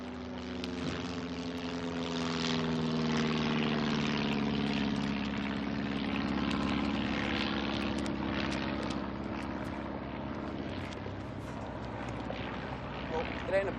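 A propeller aircraft drones overhead, a steady low engine hum swelling and slowly fading, with people talking over it.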